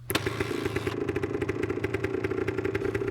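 A motorcycle engine runs steadily with a rapid, rhythmic thumping and clatter while riding home at nightfall over muddy ground soaked by a heavy storm. The sound is close and continuous, and no voices are heard.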